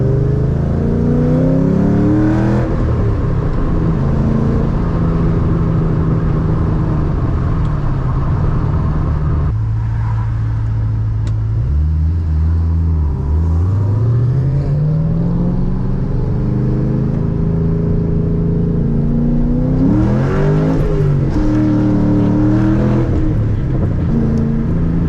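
A Ford Mustang with the 3-valve engine launching and accelerating hard at a drag strip, its loud engine roaring up through several gears with rising revs and shift drops, close and continuous for about twenty-five seconds with no talking.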